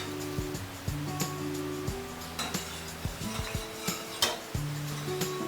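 Milk boiling in two pots is stirred steadily to make curd, a spoon scraping and clinking against the metal at intervals over a soft simmering bubble, close by with no talking.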